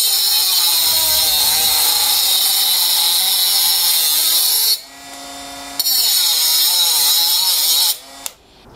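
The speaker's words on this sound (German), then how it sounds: "wenn ich jetzt richtig doll drücke, dass der kleine Winkelschleifer schlapp macht" A small Bosch 12V cordless angle grinder whines loud and close, its pitch sagging and bogging down as it is pressed hard into the work, cutting out briefly twice and spinning back up.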